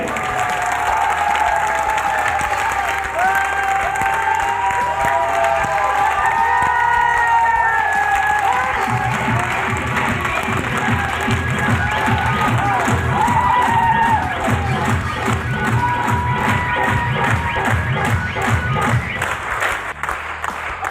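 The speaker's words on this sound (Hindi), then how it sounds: "तो एक तालियां बजा के बताइए" An audience at a motivational business seminar in India breaks into loud, sustained applause with cheering, lasting about twenty seconds, with music playing over the clapping crowd.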